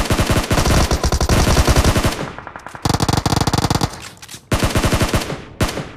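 Loud, close automatic gunfire in BGMI, with a dense rattling M4 burst lasting about two seconds, followed by several shorter rapid bursts separated by brief pauses.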